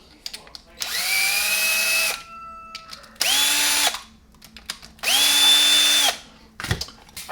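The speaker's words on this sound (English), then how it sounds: "a T20 Torx screw is what we're going to need to remove these screws" Power screwdriver backing T20 Torx screws out of an Ingersoll-Rand 2235TiMAX impact wrench during a teardown: three separate sustained whirring runs of about a second each, loud and close, with short clicks and a knock between them.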